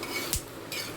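Onions roast in a pan while being stirred over the heat, giving a close, steady sizzle and hiss with a brief scrape of a utensil against the metal partway through, heard alone with no talk.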